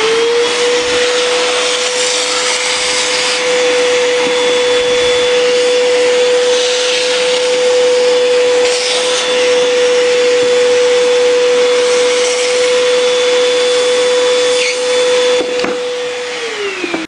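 A shop vacuum with a chiseled edge attachment sucks debris from under a floor edge while a subfloor is prepped for underlayment: a loud, steady, high-pitched whine that holds the whole time, then winds down as the machine switches off.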